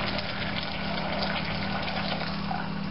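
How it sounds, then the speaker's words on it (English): Water pouring into a brewing mash tun makes a steady, close, continuous gushing rush that holds an even level from start to finish. "as exciting as it is watching me pour water"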